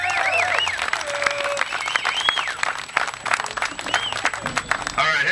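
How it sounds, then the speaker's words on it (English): Rally crowd applauding a speaker at a gun-rights rally, clapping and cheering mixed with whistles and voices, steady and fairly loud, with a brief dip near the end before swelling again. "Round of applause for Double D and everything he brings."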